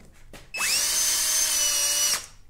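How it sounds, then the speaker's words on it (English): A power drill driving screws on a Kymco X Town 300i scooter, set to low torque, whirs up to speed and runs at a steady high whine for about a second and a half, then winds down, close by. "I'm gonna use my drill."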